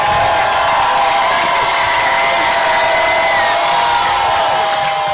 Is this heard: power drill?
no